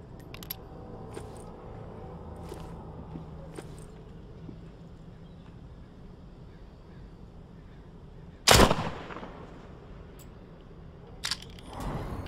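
A gun fires in the VR zombie game The Walking Dead: Saints & Sinners, giving one sharp, loud shot amid quiet ambience, then a smaller crack shortly after.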